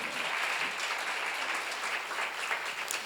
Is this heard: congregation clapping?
yes